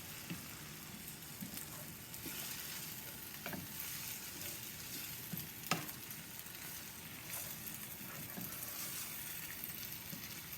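Tomatoes sizzle and crackle steadily in a hot frying pan while being stirred and pushed around, with a dense, even hiss and occasional scraping clicks, no talking.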